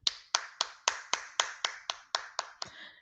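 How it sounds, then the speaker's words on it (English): Eleven sharp, evenly spaced hand claps from a single person, close and crisp, each with a short decay, alone without talk. "Hand clap for Royal Central Kitchen."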